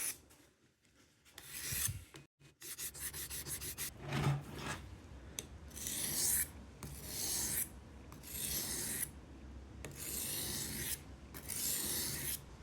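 Rough raspy strokes as a broken knife edge is reground to remove the burr, repeated rubbing passes in an irregular rhythm with short pauses, close and fairly quiet.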